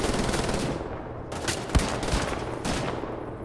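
Machine gun fire in the video game Wolfenstein: The New Order, loud, dense continuous bursts with a few sharp individual shots over a heavy low rumble, and no talk.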